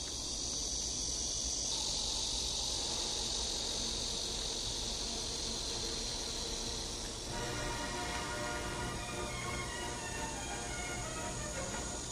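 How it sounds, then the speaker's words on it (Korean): A steady, dense chorus of cicadas drones continuously throughout, with a shift in its high-pitched buzzing partway through and no talking. "매미 소리가 그럭저럭 그래도 위안이 되네요"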